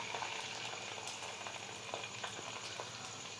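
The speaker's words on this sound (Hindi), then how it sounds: "घी जो है वो हमारा अच्छी तरह से गर्म हो गया। अब आप पहले इसमें डालेंगे प्याज" Onions frying in hot desi ghee for a Pakistani aloo palak dish, a steady close sizzle with crackling pops throughout and no talking.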